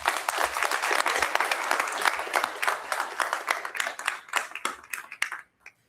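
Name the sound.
applause for basketball champions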